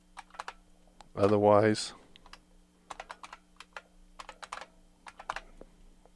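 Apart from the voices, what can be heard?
typing a root password on a computer keyboard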